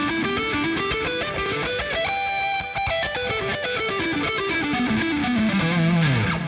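Electric guitar playing a fluid pentatonic run with distortion and delay, notes cascading steadily up and down and echoing into one another.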